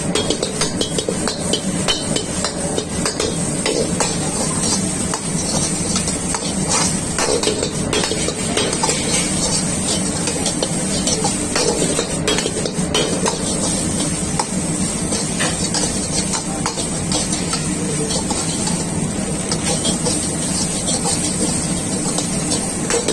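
Chicken fried rice is stirred with white pepper and salt in a pan, a loud, continuous sizzle with constant scraping and clattering of the utensil against the pan, with no voices.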